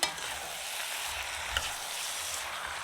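Seasoned chana stirred in a hot pot, with continuous sizzling and frying and a spoon scraping through now and then, close and steady with no talk.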